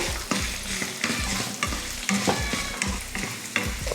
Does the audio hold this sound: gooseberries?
yes